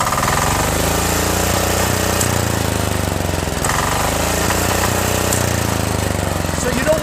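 Blown 25 hp Kohler V-twin engine on a Craftsman DYT4000 lawn tractor runs at a held-down low idle, a loud steady rumble throughout with a brief surge, and a voice partly under it.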